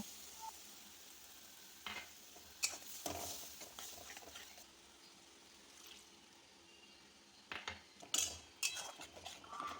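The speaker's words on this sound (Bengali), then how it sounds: "এবার আমরা আদা রসুনের পেস্ট দিয়ে খানিকক্ষণ নাড়াচাড়া করে নেব। আদা রসুনটা ভালো করে ভাজা হয়ে গেলে" Ginger garlic paste fries quietly in a pan for a prawn malai curry, a soft steady sizzle broken by several sharp scrapes and clinks of a spatula stirring against the metal.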